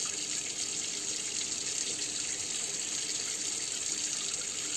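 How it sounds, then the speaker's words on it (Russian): Water runs continuously into a basin while laundry is rinsed after a potassium permanganate soak, a steady close splashing flow with no pauses or voices. "Спустя время ополаскиваем белье до тех пор, пока вода не станет прозрачной."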